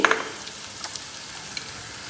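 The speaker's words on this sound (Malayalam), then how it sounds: "ഇപ്പം നമ്മുടെ മസാലപ്പൊടികളെല്ലാം നമുക്ക് റോസ്റ്റ് ചെയ്ത് അതിൻ്റെ അകത്തോട്ട് ഇടാം" Masala spice powders of coriander, turmeric, garam masala, pepper and chili roasting in a hot pan, a soft continuous sizzle with a few light scrapes and ticks, close and steady with no talking.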